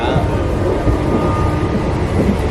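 Riding a passenger train in Yala, Thailand. A loud, steady rumble of the moving carriage fills the clip without a break, and voices may be faintly present beneath it.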